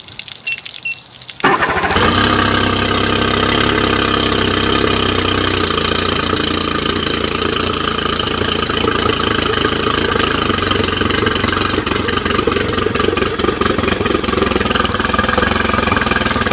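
Outboard boat motor cranks over and catches, then runs at a steady, loud idle while being flushed, with a dense mechanical drone and a rattle of water.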